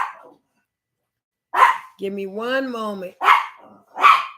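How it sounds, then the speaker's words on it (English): A dog barks indoors in sharp single bursts, three or four loud barks spread over a few seconds, with someone speaking between them. "excuse the dog"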